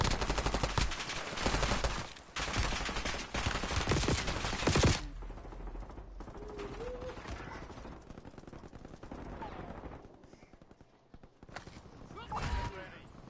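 Bursts of rapid automatic gunfire in the online shooter Warzone, loud and dense for the first few seconds, then dropping away to quieter game noise, with voices talking over it.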